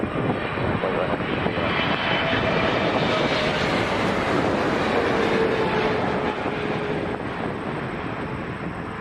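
An airliner takes off from runway 23 at Toronto Pearson, its jet engines a loud, steady broadband roar that swells and holds for several seconds, heard alone without talk.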